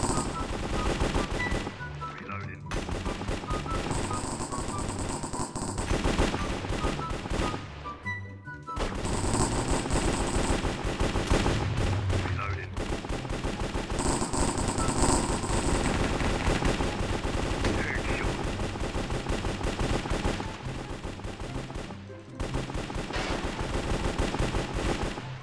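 Video-game gunfire in Minecraft rattles in long, loud automatic bursts, with only brief pauses between them.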